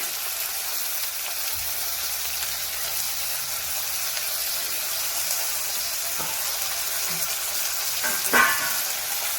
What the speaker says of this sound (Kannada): ಈ ರೀತಿ ಮೆಂತ್ಯ ಸೊಪ್ಪನ್ನು ಎಣ್ಣೆಯಲ್ಲಿ ಫ್ರೈ ಮಾಡ್ಕೊಳ್ಳೋದ್ರಿಂದ